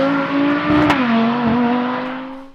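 A big-turbo Audi RS3 launching at a quarter mile drag event, its engine holding a loud, steady droning tone that dips briefly and then sustains before fading slightly.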